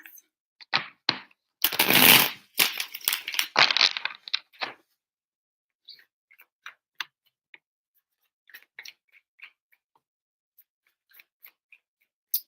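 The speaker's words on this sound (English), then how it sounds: "Three shuffles for Pisces and their person." Crisp bursts of tarot card shuffling, a dense riffle near the start, then scattered soft taps and flicks trailing off into quiet.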